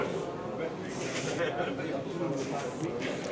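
An airbrush held two to three centimeters from a scale model sprays paint in a steady hiss, with brief brighter bursts as the trigger is pulled, under continuous close talking.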